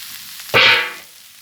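Kapak fish dropped into a hot pan for ginataang pakak, bursting into a loud, close sizzle that swells suddenly, holds for about half a second, then settles into a softer fry.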